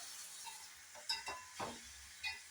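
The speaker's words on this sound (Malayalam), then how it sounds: "മഞ്ഞൾപ്പൊടിയും ചേർത്ത് ഉപ്പ് ഒഴിച്ച് നമുക്കൊന്ന് ഇളക്കി വയ്ക്കാം" Cabbage with grated coconut, small onion, ginger, turmeric powder and salt stirred in a pan, giving a few soft scraping strokes and faint sizzling, quiet and close, with no talking.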